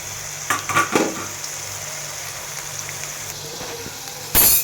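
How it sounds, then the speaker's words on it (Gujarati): Chili strip fritters sizzle in hot oil with a steady, even crackle while a slotted spoon knocks a few times against the pan, ending in a brief louder metallic clatter. "હવે આપણે જારો લઈ અને આપણે હલાવવાની છે"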